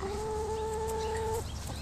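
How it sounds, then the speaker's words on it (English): Chickens cluck on a farm, with one sustained two-tone call held for over a second before a short pause and fainter calls resuming in the background. "These are chickens."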